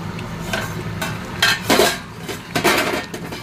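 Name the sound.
covering the pan of fish curry with a lid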